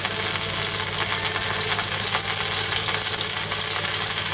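Garlic and ginger sizzle steadily in melted butter in a pan for chicken sisig, a loud, constant close-up frying hiss with no breaks.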